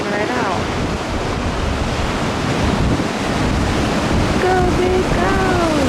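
An ocean wave breaks over a shallow reef slab while a surfer rides it, with a steady roaring wash of surf and heavy wind rumble across the microphone, plus faint distant calls near the end.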